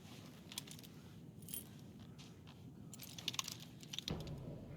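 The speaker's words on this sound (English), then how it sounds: "You'll need these keys." Keys jangle in the video game Alan Wake 2, a soft, close metallic rattle in several bursts over quiet ambience, ending in a brief clink.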